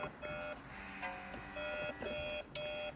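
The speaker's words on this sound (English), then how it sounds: "I'm gonna turn the ignition on." Dashboard warning chimes sound inside a McLaren with a faulty steering angle sensor as the ignition is switched on, a repeating series of clear electronic beeps in short bursts with brief gaps, loud and close, with no talking.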